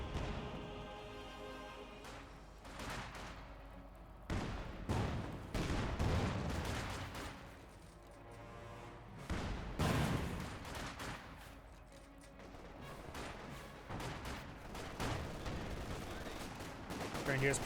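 Continuous gunfire and artillery blasts from a Company of Heroes 2 match, with a KV-1 tank firing among Grenadier squads; loud, dense volleys and booming impacts overlap throughout, with a commentator's voice faintly underneath.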